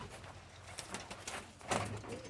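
Buchon pigeon cocks coo softly in a loft, low throaty coos repeating under faint background noise and a man's occasional murmuring.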